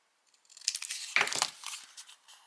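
Scissors snip through a recycled paper tag up close, a short burst of crisp cutting and crinkling that fades into light paper rustle.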